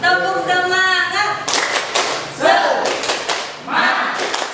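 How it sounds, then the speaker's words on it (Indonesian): A school audience of teachers performs the rhythmic 'tepuk semangat' spirit clap, sharp bursts of group clapping in a patterned beat, mixed with voices chanting in unison after a brief spoken lead-in. "Sekali lagi tepuk semangat."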